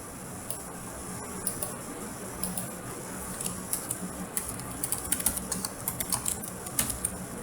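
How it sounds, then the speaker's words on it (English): Quick typing on a computer keyboard while entering notes, a steady patter of light clicks that grows busier and denser toward the end, close and alone without talk. "I'm just kind of quickly typing things in"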